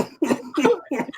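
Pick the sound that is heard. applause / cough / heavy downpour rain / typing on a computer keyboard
cough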